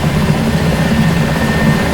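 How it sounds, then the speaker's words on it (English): A simulated helicopter in the DCS World flight sim, a loud, steady rotor and engine drone that continues without a break. "one of the best helicopter simulators you can get"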